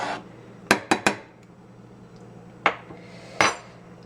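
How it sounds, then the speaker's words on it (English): A metal spoon stirs sugar into Indian chai in a pot, clinking sharply against the sides about five times in quick bursts, with quiet simmering between. "Just put that in and mix it around."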